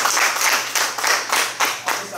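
Church congregation clapping together in steady rhythmic bursts, roughly four or five swells of hand claps with a faint low hum beneath, loud and close.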